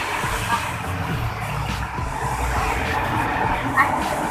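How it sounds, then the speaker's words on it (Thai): Loud car engine roar on a street at night, a continuous rumbling drone with passing-traffic swells and a brief squeal-like flicker, heard close and filling the scene. "อาจจะไม่ได้ยินเสียงหน่อยนะรถมันดัง"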